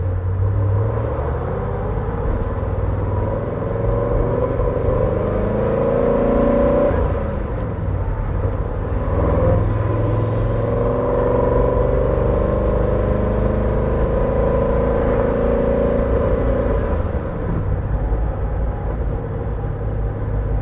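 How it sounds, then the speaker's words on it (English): A 1963 Chevrolet Corvette Stingray engine heard from inside while driving, a loud, steady, deep rumble with rising and falling revs and gear changes throughout, and no talking. "What a noise this car makes."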